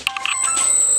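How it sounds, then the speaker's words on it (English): A phone rings in a workshop where a mill is being tested, giving a short, bright electronic chirp followed by a sustained high tone, loud and close. "phone ringing, always"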